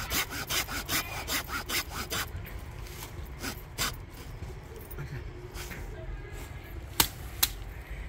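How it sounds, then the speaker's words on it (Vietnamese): Hand saw rasping through a sappy fig tree branch being cut for a bonsai, steady back-and-forth strokes close up for several seconds, then slower scraping with a couple of sharp knocks near the end. "nó nhiều nhựa nó xít cưa lắm."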